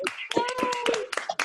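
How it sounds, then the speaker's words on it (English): Scattered hand claps from an online Zoom audience giving a round of applause, a few sharp irregular claps close to the microphone with voices talking over them. "Let's give everyone who rang a round of applause, shall we?"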